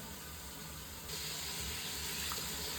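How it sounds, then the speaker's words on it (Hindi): Water poured a little at a time into a pot of dal chicken sobat with whole chillies, a steady close hiss of running liquid that grows a touch louder partway through, with no talking. "थोड़ा थोड़ा पानी डालता है"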